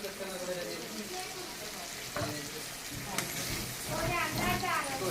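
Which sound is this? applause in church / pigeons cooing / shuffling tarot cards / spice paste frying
spice paste frying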